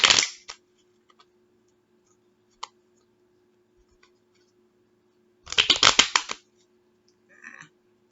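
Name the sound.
shuffling tarot cards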